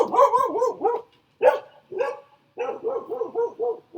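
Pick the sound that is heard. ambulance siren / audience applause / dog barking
dog barking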